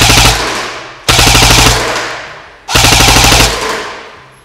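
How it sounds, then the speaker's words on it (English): Three loud, close bursts of rapid full-auto fire from an Echo1 SOG-68 airsoft CAR-15, each a quick rattling string of shots striking a box target, separated by short pauses, with no talking. "I'll fire about 3 bursts of around 10 shots each, so about 30 rounds on target."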